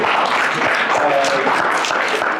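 An audience applauds a Libertarian presidential candidate at a campaign event in Colorado, loud continuous clapping filling the room with no speech over it.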